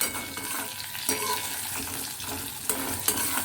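Potatoes rubbed with salt and turmeric frying in ghee with cumin, carom seeds and asafoetida give a continuous crackling sizzle, broken by a few stirring scrapes and light knocks, with no speech.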